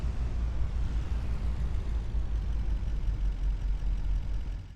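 A vehicle engine in Farming Simulator 25 runs at a steady low rumble, continuous and even throughout with no talking.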